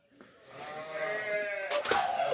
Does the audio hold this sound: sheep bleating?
yes